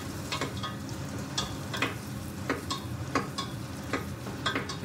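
Garlic and onion softening in melted butter for a tomato soup, a steady quiet sizzle broken by regular scrapes and taps of a spoon stirring the pan, with no voices.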